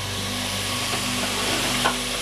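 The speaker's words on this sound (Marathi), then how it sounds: "तर हा फ्राय होतो आहे कांदा" Onion fries steadily in a pan for a green chicken dish, a constant close sizzle with faint stirring scrapes and no talk.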